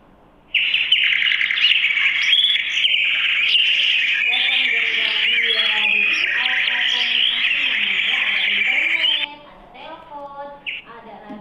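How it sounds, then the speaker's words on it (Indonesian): Loud, dense chorus of many birds chirping and tweeting continuously, with a speaking voice underneath at times, fading out near the end. "Birds chirping in the trees."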